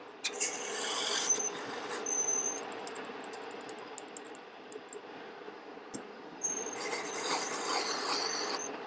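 A drill bit bores into the bronze bearing of a Harley Ironhead magneto, a steady scraping rasp with high metallic squeals that fade in the middle and return stronger toward the end.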